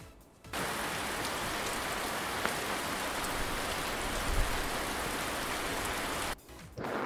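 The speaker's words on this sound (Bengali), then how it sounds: "ছাতা মাথায় বৃষ্টি পড়ে।" Steady, loud rain pours down continuously, a dense hiss of drops striking a surface that begins abruptly and briefly dips near the end.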